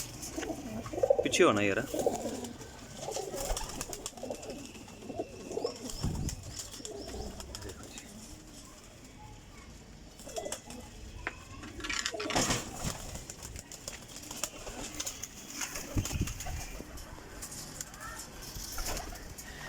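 Teddy golden flying pigeons coo at intervals over a noisy loft, with scuffles and wing movement nearby and someone talking over them.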